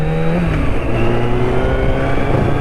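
Yamaha Thundercat 600cc (598cc) motorbike engine running loud and close, a steady droning tone with pitch rising and falling slightly as it revs, heard alone without talk.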